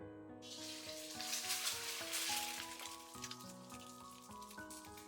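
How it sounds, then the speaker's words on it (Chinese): Eggs frying in hot cooking oil in a preheated wok, a steady bright sizzle with soft crackles and pops, accompanied by continuous music throughout. "然后再把鸡蛋下锅"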